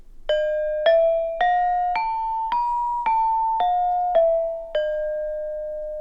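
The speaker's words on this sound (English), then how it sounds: "I'm using my left hand to dampen the sound of the notes." Mallet strikes on a gamelan metallophone, each note damped by hand as the next sounds, giving about nine bright, clean tones in a steady rising-then-falling run, close and alone.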